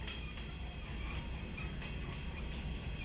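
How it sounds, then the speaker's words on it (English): A train in the Rec Room video game rumbles along steadily, low and continuous with faint rhythmic clacking and a metallic whine, at moderate distance. "Guys, the train is unstoppable!"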